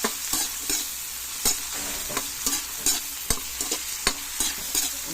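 Mussels cooking in coconut milk in a pan, a constant bubbling simmer broken by repeated sharp clacks of shells and utensil stirring at an uneven rhythm, close up with no talking.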